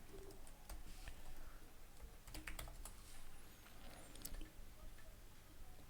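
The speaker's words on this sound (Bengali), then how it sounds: "যে ব্রাউজারে আমরা লিখব youtube.com" Keys on a computer keyboard tapped in short irregular bursts while typing a web address into a browser, close and fairly quiet, with a bird cooing faintly in the background.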